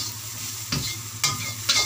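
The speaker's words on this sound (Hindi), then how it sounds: "ये आ गया गोभी पत्ता, चलाएंगे।" Cabbage leaves being stirred into chowmein frying in a pan: three quick scraping strokes over a steady, close sizzle, with no talking.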